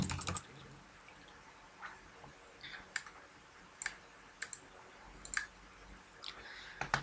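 Typing on a computer keyboard to enter consultation notes, with sparse, irregular key taps at moderate loudness over steady background hiss, no voices present.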